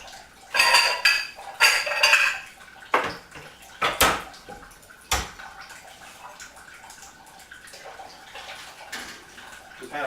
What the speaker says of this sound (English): So I'm going to start throwing some water in on top.